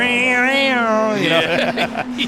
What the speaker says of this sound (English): Hear the revs climb over that crest.